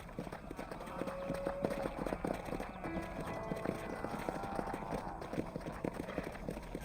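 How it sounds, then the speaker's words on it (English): Horse hooves clip-clop steadily across dirt in the Red Dead Redemption western game, a rapid, close rhythm of hoofbeats carrying through the whole stretch over a low musical and ambient bed. "Hit your horse and wait for me by the stable."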